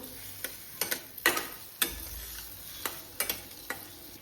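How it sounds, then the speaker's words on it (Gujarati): Sheera cooking in a pan after sugar is added, with sparse, sharp scrapes and ticks of a spoon against the pan over a soft background hiss, close and fairly quiet. "હવે આપણે આની અંદર ખાંડ એડ કરી દઈશું."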